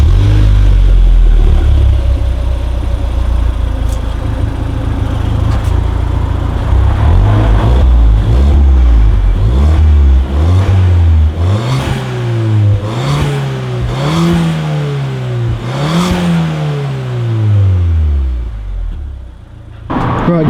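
A Mark 7 Fiesta ST180 with its back box deleted revs loudly from idle, with a string of sharp throttle blips rising and falling in quick succession before settling back down.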